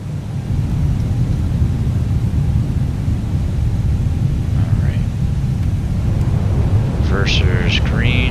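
An EasyJet Airbus A320neo in Microsoft Flight Simulator 2020 lands with thrust reversers roaring, a loud, steady low rumble that fills the whole stretch, with brief synthetic cockpit call-out tones near the end.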